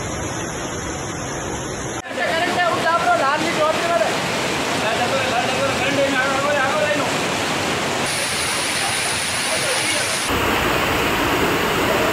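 Heavy rain and rushing floodwater in city streets roar continuously, loud and close, with the sound shifting in texture partway through; voices are faintly audible.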